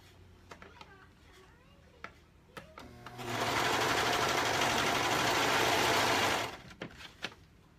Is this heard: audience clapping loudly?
no